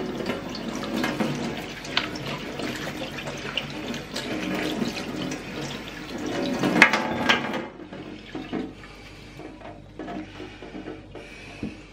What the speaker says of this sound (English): we'll give this a good wash and get rid of all the knobbly bits